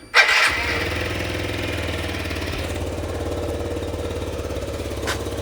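A Yamaha Jog scooter engine cranks and catches, with a brief loud burst at the start settling straight into a steady, close, buzzy idle with a rapid even beat.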